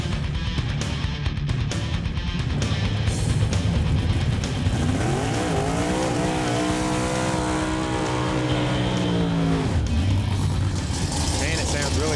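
Drag racing cars, including a 1968 Six Pack Barracuda, make a pass: engines roar and rev with a rising pitch sweep as a car accelerates away, loud and continuous, with voices talking over it.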